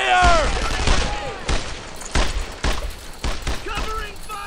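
Bursts of rifle and machine-gun fire in the World War II shooter Brothers in Arms: Earned in Blood, loud and close, repeating in sharp volleys with shouted squad commands mixed in.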